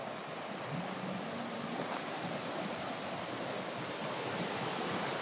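A large, cold mountain stream at a resort in Nabunturan, Davao de Oro rushes steadily in an unbroken wash of flowing water, fairly distant and even, with no voices.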